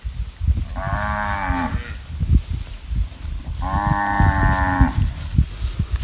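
Two long, loud moos from a herd of cattle being driven along a dirt road, each about a second, rising from a noisy outdoor background of shuffling and rustle, with a pause between them.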